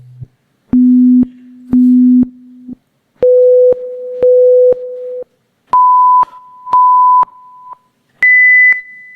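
Pulsed pure sine tones of an audiology test, each pitch beeping in short bursts before stepping up to a higher pitch, clean and loud, with faint clicks at each pulse edge and no talking.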